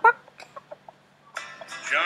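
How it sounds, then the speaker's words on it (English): Cartoonish chicken clucks from the pet game Can Your Pet come as a string of short, bright bursts that grow into a louder squawking flurry at the end, with a voice mixed among them. "here, chicken talk"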